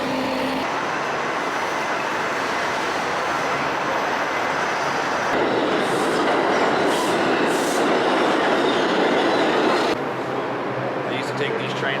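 New York City number 1 subway train rumbling continuously with a loud roar and rolling clatter, swelling in the middle section, while voices talk over it.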